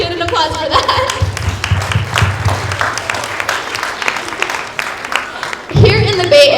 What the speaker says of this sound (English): let's give an applause for that